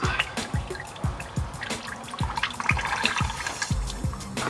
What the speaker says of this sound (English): It will start leaking a bit of oil eventually.